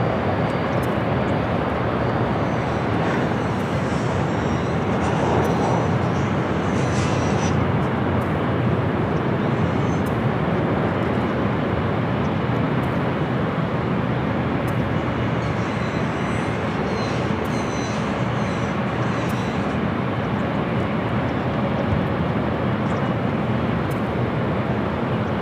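Jet airliners such as a Western Global 747-400 and a Lufthansa flight arriving at LAX, heard as a steady, loud, broadband roar that holds throughout without pause, like a large aircraft close by on approach.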